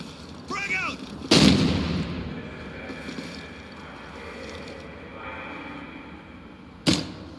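Frag grenade blast and gunfire in the shooter game Ghost Recon Future Soldier, PC multiplayer: a loud sharp bang early, sustained rumbling battle noise, then another sudden crack near the end, with no talk.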